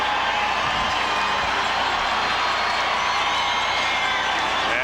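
A sellout football stadium crowd roars continuously at an NFL playoff game between the Pittsburgh Steelers and Houston Oilers, a dense, loud, distant wash of cheering that holds steady throughout.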